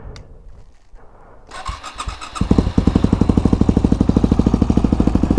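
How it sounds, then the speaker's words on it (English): A 2009 Yamaha WR250X 250cc single-cylinder motorcycle engine with FMF Megabomb header and Yoshimura RS4 slip-on exhaust cranks and catches after a quiet moment, then settles into a loud, fast, even thumping idle up close. "let's see if we can get a cold startup of a 2009 Yamaha WR250X 250cc single-cylinder engine"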